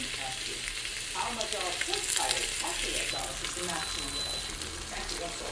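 A ribeye steak sears in an Instant Pot as its fat edge renders, giving a dense, steady sizzle with bubbly crackling throughout and faint, indistinct voice-like sounds blended beneath.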